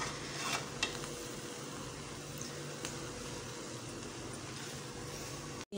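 Cooked sweet Mutanjan rice being gently mixed in a pot, a soft steady rustle and faint scraping with a couple of light clinks near the start, quiet and without speech.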